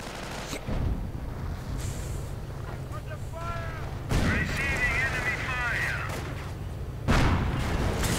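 A World War II style real-time strategy battle with Shermans and anti-tank guns. Repeated booms and bursts of gunfire come over a steady low rumble, with a few sharp impacts.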